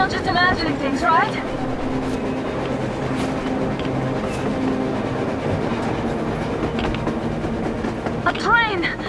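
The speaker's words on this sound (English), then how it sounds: "A train! A damn train on the surface!" A train rumbles and clatters past with metallic squeals and clanking, while voices talk over the steady mechanical roar, in the video game Metro Exodus.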